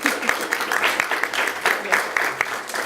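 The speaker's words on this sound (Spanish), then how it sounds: "Entonces les pido un fuerte aplauso para Dawn Pally, por favor." A seated audience at a Spanish-language talk applauds an introduced speaker, a steady patter of many hands clapping at moderate volume with some voices mixed in.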